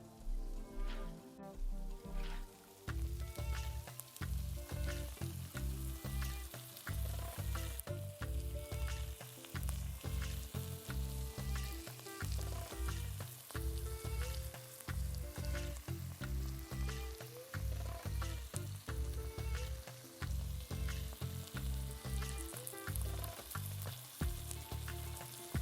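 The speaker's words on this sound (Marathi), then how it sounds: "शिजल्यानंतर त्यात पावटा आणि बटाटा टाकून घेऊया." Pavta beans and potato cooking in masala in a pan, sizzling steadily throughout, while a rhythmic pattern of repeated tones, likely background music, runs under it; no speech.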